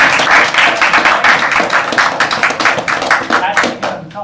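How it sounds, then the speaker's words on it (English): An audience gives a round of applause, with loud, close, rapidly pulsing handclaps forming a busy, uneven patter that holds steady for several seconds before thinning out. "A round of applause."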